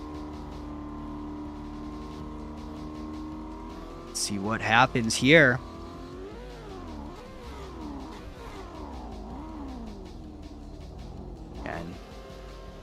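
Drift cars rev their engines at Tsukuba circuit, with a short burst of loud, rising revs near the middle over a steady background engine drone, while a commentator talks throughout.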